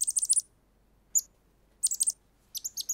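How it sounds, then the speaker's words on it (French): A small baby bird in a French cartoon chirps in quick high bursts, several clusters of rapid tweets separated by short silences, clear and close with no voices. "D'où vient ce petit oiseau?"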